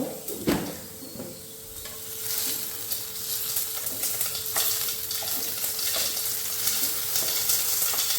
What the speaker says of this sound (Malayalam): കടുക് പൊട്ടിക്കട്ടെ കേട്ടോ